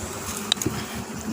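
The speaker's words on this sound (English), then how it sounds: "so the bees have the fly path to enter." Honey bees buzzing at a hive entrance in spring, a soft continuous insect drone with a few individual bees passing close by, quiet and without talk.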